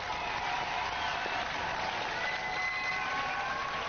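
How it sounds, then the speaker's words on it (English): Studio audience applauding the Morg Posse robot-combat team, sustained even clapping with a faint crowd murmur throughout, fairly distant and uniform. "give a round of applause for the Morg Posse!"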